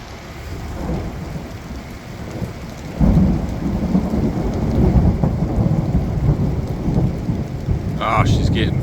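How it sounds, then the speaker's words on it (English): A heavy thunderstorm pours rain steadily nearby while thunder rumbles low and grows louder partway through, with a brief rustle near the end. "we are getting a decent storm. Had some lightning."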